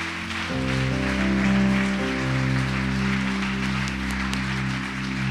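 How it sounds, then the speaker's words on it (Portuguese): An audience claps steadily as a dense, even wash of applause under loud sustained keyboard or organ chords at a church service, lasting throughout without a break. "Pode aplaudir o Senhor, irmão."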